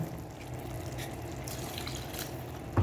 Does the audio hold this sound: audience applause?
no